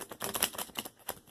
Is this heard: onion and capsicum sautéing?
no